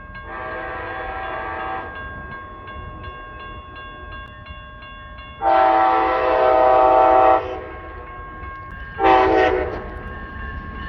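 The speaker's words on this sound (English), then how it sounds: "after this train goes by" Amtrak train passing near the Seminary Hill area, sounding its horn in three blasts: a long one, a longer, louder one, then a short loud toot, over a low steady rumble.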